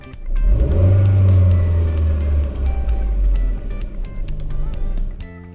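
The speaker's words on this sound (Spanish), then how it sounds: "Si el coche está parado, aceleramos y luego soltamos el pedal." A Chevrolet Matiz (Spark) engine, parked and stationary, revs up to a loud, steady roar, holds there for several seconds, then drops back toward idle near the end.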